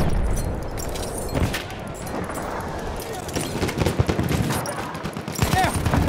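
Rapid gunfire in Battlefield 1, dense overlapping bursts of automatic shots and distant explosions rattling continuously across the battlefield, growing sharper and more intense toward the end, while someone talks over the din.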